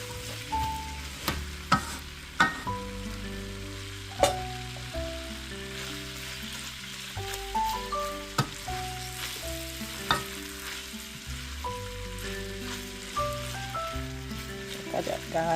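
Corned beef and cabbage fry and sizzle in a pan while being stirred: a continuous close crackle broken by regular scraping and tapping strokes, with soft music playing underneath.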